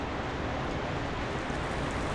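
Rain pours steadily on a mountain road near Baguio in thick fog, a dense unbroken hiss of falling water, continuous and fairly loud with no voices.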